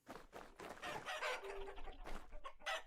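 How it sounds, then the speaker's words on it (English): Chickens clucking in the survival game Vintage Story, a close, busy run of throaty clucks and squawks with one drawn-out crow-like call in the middle, fairly quiet and without talking. "Still no eggs. You chickens are useless."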